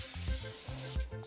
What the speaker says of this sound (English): I am going to go ahead and spray it because you want it to soak into the corn.